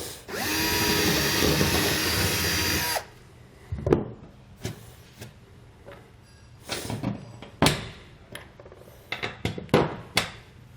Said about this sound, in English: We're just going to get our hole drilled out here.